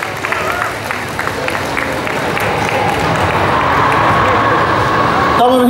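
Crowd applause at a Paris manga convention panel for The Big Bang Theory, dense clapping mixed with cheering and crowd hubbub that swells and stays loud to the end, with a brief voice near the close.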